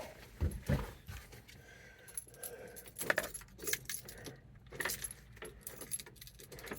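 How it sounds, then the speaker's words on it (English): A key rattles and turns in a Jeep ignition, giving repeated jangling clicks and metallic clatter with no engine firing, close and fairly quiet, with no voices. "Let's turn the ignition on"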